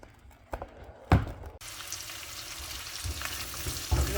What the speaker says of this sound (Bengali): পেঁয়াজের সাথে চিংড়ি মাছটা হালকা করে একটু ভেজে নিচ্ছি।